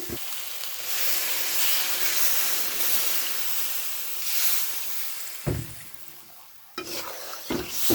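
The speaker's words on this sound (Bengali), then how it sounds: "এখন মাপ মতন জল দিয়ে দিব।" Water poured into a hot pan of soybean chunk curry, releasing a long, broad hiss that swells and fades, followed by a few sharp spoon knocks against the pan, close and alone without speech.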